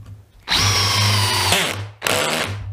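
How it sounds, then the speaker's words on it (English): Cordless drill driving screws with a clutch and torque setting, motor whining up loud and close, holding, dropping off briefly, then spinning up again as the trigger is feathered. "you can hear how I'm feathering the trigger as well. Like that, see? That's how easy you can drive the screws in."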